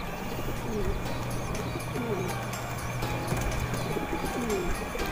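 Pigeons at a loft coo repeatedly in soft, rolling calls over steady background noise, with a few faint chirps mixed in.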